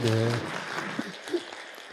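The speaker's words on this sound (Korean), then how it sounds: "네, 박수." Congregation applause during a Korean church worship service, a soft, brief patter of clapping that follows a short burst of a voice and fades out within a couple of seconds.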